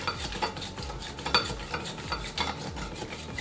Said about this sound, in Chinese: 我这边有个小型打蛋器，把它就是打散